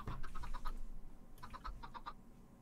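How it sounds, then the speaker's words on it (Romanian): Minecraft chickens in an automatic chicken farm, video game: two bursts of short, repeated clucking calls, each a rapid run of five or six notes, separated by a brief pause. "sunt sus acolo găinile care fac cot-codac și fac ouă"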